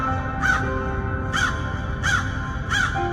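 A crow caws four times, loud and close, the harsh calls spaced about a second apart over a low steady background.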